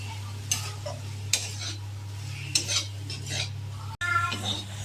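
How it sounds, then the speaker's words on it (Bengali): Boiled greens frying with onion and chilli in a pan make a soft, steady sizzle, broken by a few sharp spatula scrapes and knocks as they are stirred, close up, with a low hum underneath and nobody talking. "শাক সেদ্ধ হয়ে গেছে, এবারে ভেজে নেওয়া হচ্ছে। পেঁয়াজ লঙ্কা দিয়ে দিচ্ছি।"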